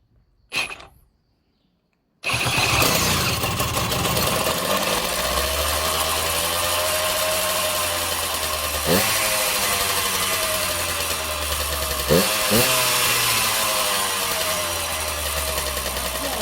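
A Rondine Copeta Cross 50cc moped engine after a full mechanical restoration, starting up after a brief sputter, then running loudly and steadily with a raspy two-stroke buzz and a couple of revs.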